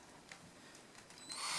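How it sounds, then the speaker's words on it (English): A power drill bores holes into the body of a double-neck guitar while a bass neck is bolted on, the drill whirring up loudly near the end after quiet handling sounds. "my drilly lily, my silly little drilly, and drill some holes."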